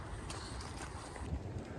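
Low, blustery wind rumbling against the microphone outdoors while metal detecting near woodland in England, a steady muffled roar with no voices.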